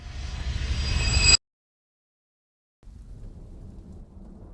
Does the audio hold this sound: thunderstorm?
yes